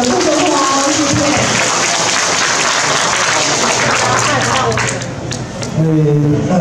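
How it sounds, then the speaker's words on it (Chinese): An audience at an election campaign event in Yunlin, Taiwan, greets the vice president with loud, sustained applause that fills the space, dipping briefly before a voice comes in over the clapping. "我们是不是用最热情的掌声来给我们的副总统？"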